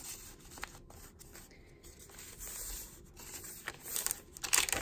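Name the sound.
tea-dyed tracing paper crinkling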